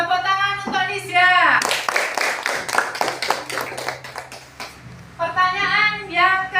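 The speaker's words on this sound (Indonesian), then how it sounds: "Tepuk tangan untuk Nisya." A classroom of students claps together for a classmate named Nisya, a dense burst of many hands lasting several seconds, with voices talking just before and after it.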